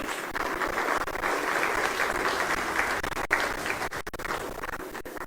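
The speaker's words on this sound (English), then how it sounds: "I think he needs a big round of applause." Audience applause at a televised Ghanaian talk show event, sustained even clapping from a crowd lasting the whole stretch with a slight swell midway.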